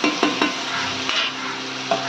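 Ivy gourd tossed and stirred in a hot pan, a steady sizzle with a few sharp spatula scrapes, close and fairly loud, no voices.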